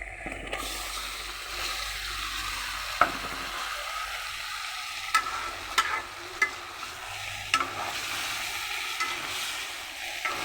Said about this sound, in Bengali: এই অবস্থায় আমি এখন বেগুনটা ঢেলে দিচ্ছি